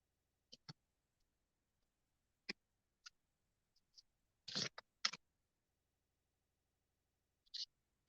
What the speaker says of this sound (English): I'm going to go ahead and get these cards out, and I'm going to shuffle these things